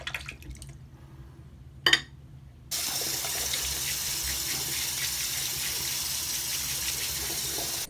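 A bathroom tap turns on and runs in a steady, continuous stream into the sink to rinse a shaving razor, after a few faint clinks and a short splash.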